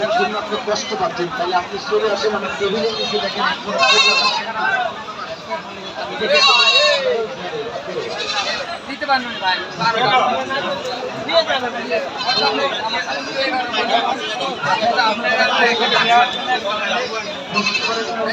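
Young goats bleat repeatedly at a busy livestock market in Baneshwar, Rajshahi, their calls rising over steady crowd chatter and people talking nearby.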